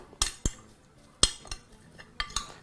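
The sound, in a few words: spoon mixing potato mixture in a bowl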